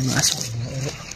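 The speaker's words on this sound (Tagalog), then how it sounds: "May mga aso." Dogs bark and yelp close by, short bursts rising over ongoing outdoor talk from several people.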